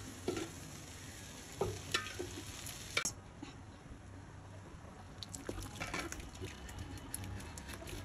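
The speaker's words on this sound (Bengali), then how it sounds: "এই যে এটা হচ্ছে খাসির মাংসটা রান্না করছে।" Mutton simmering in a pot for dum biryani, a soft steady sizzle and bubbling with occasional stirring scrapes and clinks, close and fairly quiet with no voices.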